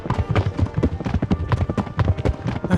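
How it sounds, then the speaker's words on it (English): Rapid, rumbling hoofbeats in Kingdom Come: Deliverance pound in a quick galloping rhythm, close and loud, several horses thundering along continuously. "That's really rumbling horse hooves."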